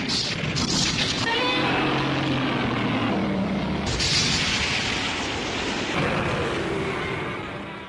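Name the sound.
explosion and volcanic eruption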